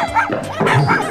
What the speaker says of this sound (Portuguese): Como é esse latido?